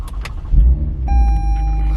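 A Toyota Camry TRD with a throttle body spacer, engine already warmed up, starting and settling into a close, steady idle with a low rumble and a thin whine, after a few brief clicks.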